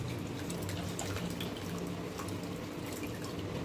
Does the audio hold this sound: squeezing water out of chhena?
yes